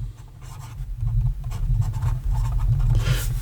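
A Pelikan M1000 fountain pen with a fine nib scratches and rubs steadily across paper, soft close-up strokes running continuously under a low background hum.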